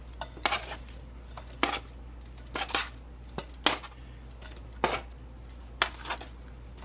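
Potatoes being dropped into a cooking pan in a kitchen, making a series of distinct close clattering knocks about once every second against a low steady hum, with no talking.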